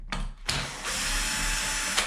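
Cordless power driver whirring in one sustained burst while backing long through-bolts out of a Kraken VESLA 5th-scale RC drivetrain gearbox, close and loud after a brief tap, with no talking.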